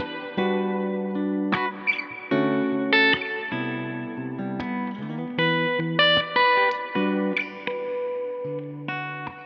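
Bright, clean electric guitar, a '64 Gibson Trini Lopez Custom on its bridge pickup, picking a steady run of chords and single notes, with a touch of echo ringing under the playing.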